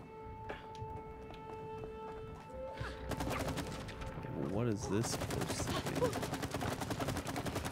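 Gunfire in the video game It Takes Two: a burst of rapid, loud shots starting about three seconds in and continuing steadily to the end, over game sounds and people talking.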